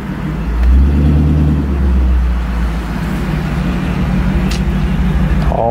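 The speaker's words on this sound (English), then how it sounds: "Driving the car back for Donald and get pulled over." A Nissan 350Z driving on a road gives a loud, steady engine drone with heavy low rumble and continuous road and tyre noise, heard from inside the car with no talk.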